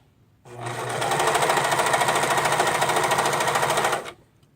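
A sewing machine stitches a stretchy neckband onto a shirt in one fast, steady, close-up run of about three and a half seconds, starting and stopping abruptly with no talking.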